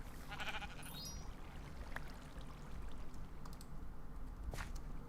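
A brief, synthetic-sounding sheep bleat from the video game Magicraft early on, set against a steady rushing, watery background noise.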